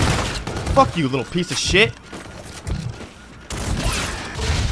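Gunfire in the video game Call of Duty: Infinite Warfare, loud bursts and rattling shots mixed with game sounds while a player yells angrily over them, with a brief lull before the noise returns.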